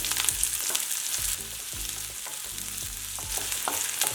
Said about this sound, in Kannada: ಒಂದು ಎರಡು ಟೀ ಸ್ಪೂನಷ್ಟು ಎಣ್ಣೆ ಹಾಕ್ಕೊಂಡಿರೋದು ಒಂದು ಮೀಡಿಯಮ್ ಸೈಜ್ ಈರುಳ್ಳಿ ಹಸಿಮೆಣಸು